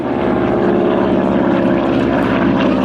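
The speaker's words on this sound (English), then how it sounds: "An aircraft with the markings of number 73 Squadron, Royal Air Force, as flown by New Zealander Cobber Cade." Propeller aircraft flying overhead at the Shuttleworth Fly Navy airshow in 2017, a loud, steady engine drone with a throbbing piston beat that stays strong throughout, with no voices.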